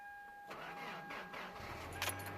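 A Toyota Tacoma 4x4 pickup engine cranks and catches on a winter cold start, settling into a low idle, heard close with a faint jingle of keys.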